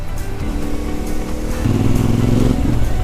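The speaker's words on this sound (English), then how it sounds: "this exhaust, standard exhaust, I hope you can hear that, because just listen" A CFmoto 450 MT motorcycle with standard exhaust idles close by with a steady low exhaust rumble that swells slightly louder partway through, with no talking.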